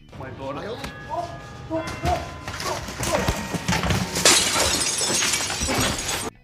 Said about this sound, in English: Notice how easily the glass shatters?